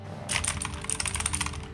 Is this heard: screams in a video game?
no